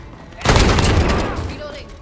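Gunfire in Call of Duty Modern Warfare, a loud close burst that erupts suddenly, rolls into a dense fusillade and decays across a couple of seconds, with a voice over it.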